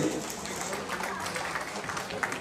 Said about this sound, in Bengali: জোরে জোরে হাততালি লিয়ানার জন্য প্লিজ